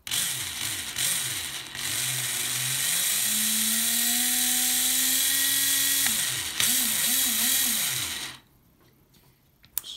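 Tamiya Fighting Buggy (Super Champ) RC car being tested on the bench, its electric motor whining and rising in pitch, with the steering servo buzzing back and forth in short bursts, close and loud, ending in near silence.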